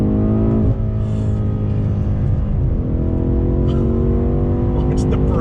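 A 2020 BMW M8 Gran Coupe engine roars loudly and close, its pitch climbing steadily as it accelerates hard through the gears.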